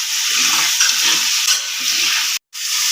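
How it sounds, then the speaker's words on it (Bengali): Fried potatoes cooking in hot oil with spices for a Bengali bhetki fish curry with potato and cauliflower, a steady loud sizzle with soft stirring scrapes and one brief cut to silence near the end. "আলু ভাজাটা দিয়েও আরও দু তিন মিনিট ভালো করে ভাজবে মশলাটাকে"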